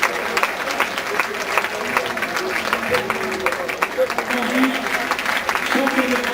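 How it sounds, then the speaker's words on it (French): A crowd at a French track cycling championship in a velodrome in Guadeloupe claps for the medal-winning riders, a steady, moderate patter of applause with voices talking over it. "s'il vous plaît, vos applaudissements pour les coureurs médaillés de ce championnat de France."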